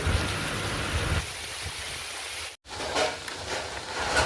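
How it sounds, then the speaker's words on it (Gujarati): Heavy rain pours steadily on open farm fields during sowing season, a loud, dense hiss that drops out for an instant midway before resuming just as strong. "બહુ અવાજ આવે છે વરસાદમાં"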